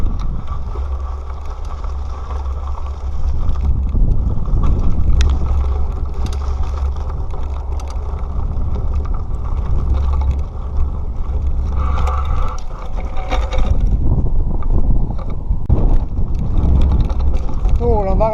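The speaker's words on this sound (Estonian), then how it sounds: "Tuul on väga kõvaks läinud." Strong wind buffets the microphone during a bike ride on Sevenmile Rim Trail near Moab, Utah, a loud continuous roar with gusty swells across the whole stretch, and a brief creak or chirp near the end.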